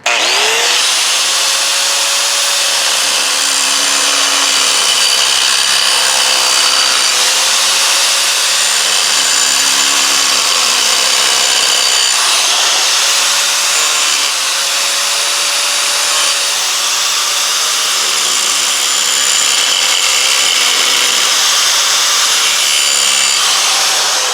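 A power tool grinds steadily and loudly through a worn rubber lawn mower drive wheel, cutting new tread grooves, with a continuous buzzing rasp and slight pitch dips as the cutter bears down, no talk.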